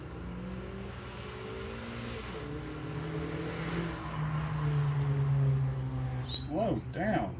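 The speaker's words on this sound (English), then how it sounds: "Car sounds awful. It sounds like a remote control airplane in a coffee can." A car engine passing by in a shop setting with a thin, buzzy, whining drone that swells as it nears. Someone speaks over it.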